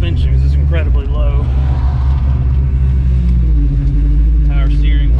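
Low, very low-slung 5.0 Ford Mustang GT bought at auction, moving slowly in reverse with a deep continuous engine rumble throughout, close and loud, while someone talks over it.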